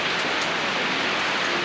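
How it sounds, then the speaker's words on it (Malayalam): Heavy rain falls in a steady, dense hiss, loud and close, during a downpour that floods a kitchen. "നല്ല മഴ, അടുക്കളയിൽ വെള്ളം കയറി ഇട്ടിരിക്കുന്നു."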